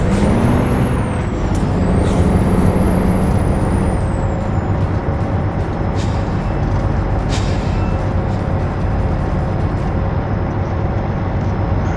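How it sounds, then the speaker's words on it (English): Engine brake on a Freightliner FLB truck in American Truck Simulator, a steady loud low rumble with an air brake hiss, running continuously throughout without speech. "When you switch it up, the Jake brake is on."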